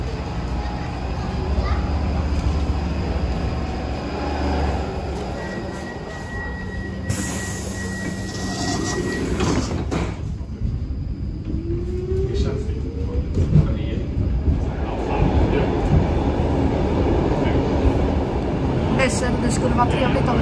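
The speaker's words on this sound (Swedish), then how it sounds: "Så det verkade som att vi fick gamla C6-vagnarna." Old C6 tram carriages run on the Lidingöbanan line with a steady rolling rumble, faint wheel squeal and short pitch sweeps. A voice talks over the ride throughout.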